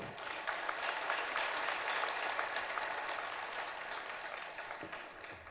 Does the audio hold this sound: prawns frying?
no